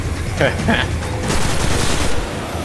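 Shotgun and hand cannon fire from the Destiny 2 video game, a burst of several quick shots and booms in the second half, with voices talking around them.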